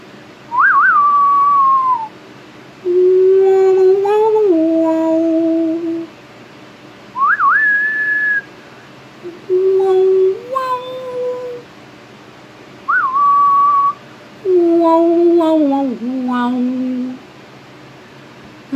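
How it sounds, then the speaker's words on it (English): A person whistles a short tune in several separate phrases, with sliding notes and pauses between them, close and clear. "musically give you a hint with whistling"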